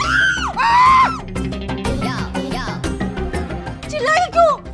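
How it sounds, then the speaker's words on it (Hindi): A woman screaming in a Hindi TV comedy, with long rising-and-falling shrieks at the start and again near the end, loud and close, over a busy background of music and voices. "आप चिल्लाई इसलिए हम भी चिल्ला दिए।"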